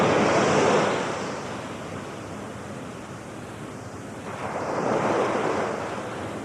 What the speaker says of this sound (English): The sea is foaming.